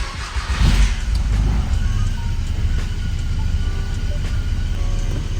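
Passat B4 with a swapped 2.0 AGG engine pulls away, its low engine rumble loud and steady with a brief rise early on, no talk.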